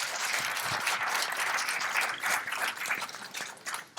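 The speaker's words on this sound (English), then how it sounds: "Give them a round of applause, please." Applause at a cruise industry meeting, a crowd clapping for tour operators Cantors and the Scenic Railway, with a steady patter of many hands that thins out toward the end.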